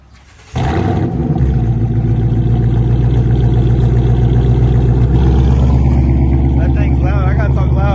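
A Ford Mustang GT with a 10-speed transmission starts up with a sudden jump to a loud, steady engine roar that holds and builds slightly while driving, close and continuous throughout.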